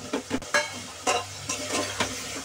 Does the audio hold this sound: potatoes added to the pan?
yes